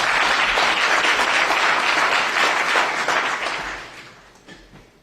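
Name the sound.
audience applause for Marcus at town hall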